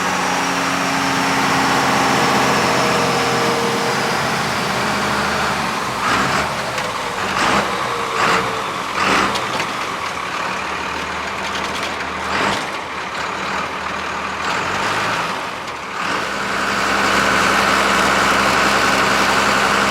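A 1950 GMC Jimmy semi truck fitted with a 5.9 Cummins diesel runs close by, its heavy engine rumbling steadily with brief revs in the middle before it settles back to a loud idle.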